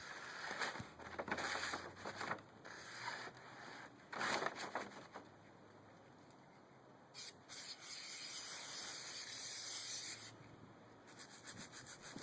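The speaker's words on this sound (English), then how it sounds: "You might, if it's really dirty, you might want to use a little bit more brake cleaner." Brake cleaner sprayed onto a dirty motorcycle chain: repeated bursts of airy, hissing spray, close but fairly quiet, separated by brief gaps.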